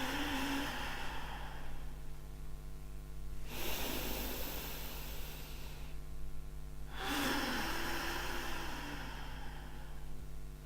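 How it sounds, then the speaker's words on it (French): Two deep, slow breathing exhales in a breathing exercise, each a soft airy rush lasting about a second, separated by quiet pauses, close and alone. "Et vous expirez."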